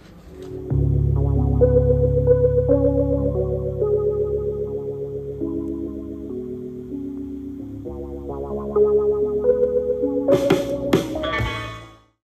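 A remastered Houses of the Holy vinyl LP plays on a turntable: sustained distorted, effects-laden guitar and bass tones shift through changing chords for about eleven seconds, then bright crashing accents near the end.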